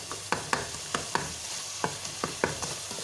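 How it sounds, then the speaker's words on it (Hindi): Mutton pieces fried on a high flame with chili, coriander, turmeric, ginger and garlic, stirred with sharp, repeated spatula scrapes against the pan over a continuous sizzle. "बाहि तेज़ करे हिनखे चङी तरह असां भुञंदासीं"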